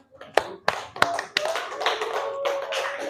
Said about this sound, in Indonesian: Tepuk tangan untuk ketiga teman kalian